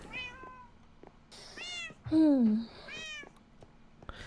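Calico cat meowing several times in a row, close and fairly quiet, with one louder drawn-out meow in the middle.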